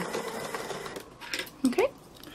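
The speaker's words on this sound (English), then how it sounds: "And so slowly sew through here." A sewing machine slowly stitching free motion embroidery on a fabric cow at low tension gives a soft, fairly faint running whir, followed by a couple of brief louder clicks and scrapes near the end.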